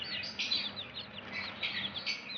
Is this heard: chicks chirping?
yes